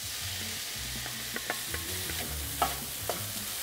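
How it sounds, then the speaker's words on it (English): Green chile peppers with grated garlic frying in a pan, a steady soft sizzle under occasional stirring clinks and scrapes of a utensil against the pan. "Now I'm gonna add my peppers."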